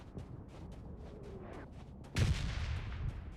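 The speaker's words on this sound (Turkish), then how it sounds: "Ama bombalar düşüyor" Bombs falling and exploding in a video game: a low rumbling backdrop gives way to a sudden loud, heavy blast about two seconds in, followed by a lingering boom and rumble.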